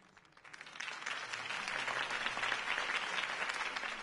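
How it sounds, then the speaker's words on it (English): Crowd applause in the video game Batman: The Telltale Series, rising from a quiet start into a sustained, dense wash of clapping that holds steady and fairly loud throughout. "could have heard that applause"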